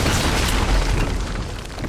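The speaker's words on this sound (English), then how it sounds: "just blow these exploding barrels away" Exploding barrels go up in the video game Uncharted: Drake's Fortune, a loud, dense booming blast that fills the whole stretch and tails off slightly at the end.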